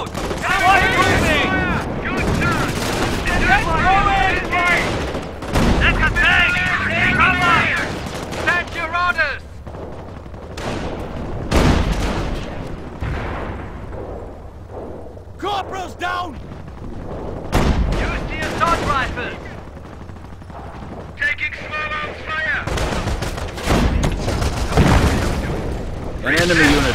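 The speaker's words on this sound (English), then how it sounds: "Base is under enemy fire." Battle in the video game Company of Heroes with the base under attack: bursts of gunfire and heavy artillery booms come in repeated waves, mixed with game voice lines.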